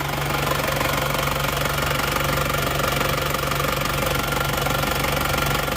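An Isuzu Panther diesel engine idles with a steady, rattly knock. It runs near and constant for several seconds, with no voices over it.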